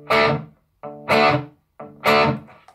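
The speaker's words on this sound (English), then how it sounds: "And if you're fretting the chord before you hit the strings with your right hand, you will be playing two notes instead of one." Electric guitar power chord fretted too early so an extra note sounds first, repeated three times: a short lower pluck followed by a louder distorted chord strum each time, close and without speech.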